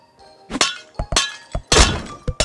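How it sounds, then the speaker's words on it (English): Plates smashing in the Royal Match puzzle game, a series of loud, sharp crashes and thuds in quick succession with bright breaking bursts, without voices. "Now, these will probably make an amazing noise when they get smashed."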